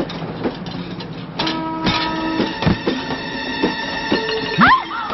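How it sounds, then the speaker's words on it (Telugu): A moving passenger train rolling along with steady rail rumble, clicks and a long sustained tonal hum, likely a horn or brake squeal, plus a rising squeal near the end, heard loud and close. "రన్నింగ్ లో ట్రైన్ ఎక్కుతున్నావు"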